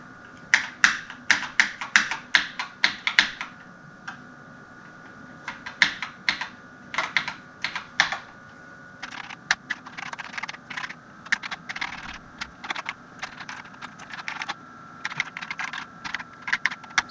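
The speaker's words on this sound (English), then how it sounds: "So we have a almost working keyboard." Keys clatter on a BBC Master 8-bit computer keyboard in uneven bursts of close, crisp taps, with short pauses between runs of typing.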